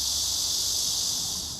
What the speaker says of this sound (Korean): 매미들이 제일 먼저 반겨줍니다. 정신없이 시끄러운데도 행복합니다.